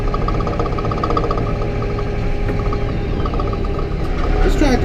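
A Massey Ferguson 4710 tractor pulls a disc harrow across a field, its engine droning steadily and loudly with a constant mechanical hum throughout.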